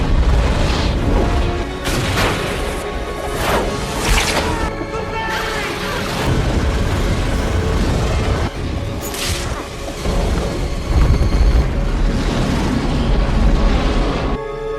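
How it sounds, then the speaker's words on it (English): A shark blown apart by a dynamite-loaded harpoon in a film scene: sustained loud, booming crash and rumble with repeated heavy impacts throughout, dense and continuous. "Carter and Preacher then shoot the shark with a harpoon loaded with dynamite, blowing it to pieces."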